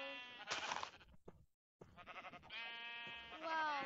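A sheep bleats in the game Minecraft, a few wavering, buzzy calls close and clear, broken by a brief silence before a longer drawn-out bleat.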